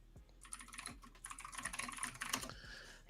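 Rapid typing on a computer keyboard, a dense run of quick key clicks with a few louder strokes, close and clear with no one speaking.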